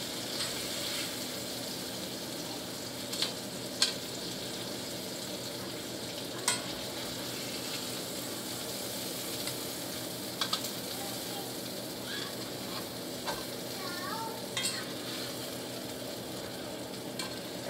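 Chicken pieces browning in olive oil in a pan give a steady, moderate sizzle throughout, with a few sharp pops and clicks scattered over the hiss.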